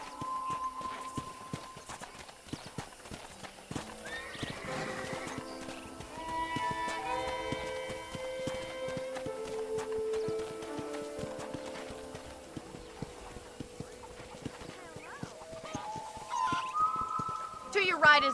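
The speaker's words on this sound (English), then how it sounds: "let's see if you can still ride a horse" Horse hooves clip-clop at a steady walking rhythm while riding across a ranch in the Red Dead Redemption video game, with music and voices speaking over the hoofbeats.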